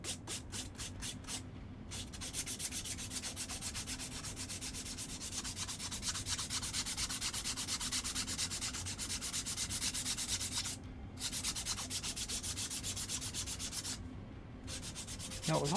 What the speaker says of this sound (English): Now, with all this sanding,